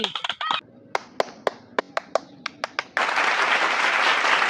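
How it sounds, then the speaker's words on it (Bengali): A game show audience bursts into applause: a run of sharp, separate claps gives way to a loud, dense, sustained wash of clapping from a crowd. "হাততালি, হাততালি, হাততালি"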